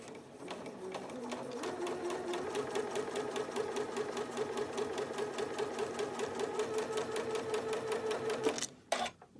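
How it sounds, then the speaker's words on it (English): Sewing machine running steadily as it stitches quilt block pieces, a fast even needle chatter held for about eight and a half seconds, close and moderately loud, then stopping abruptly near the end. "And then I'm going to just start to sew."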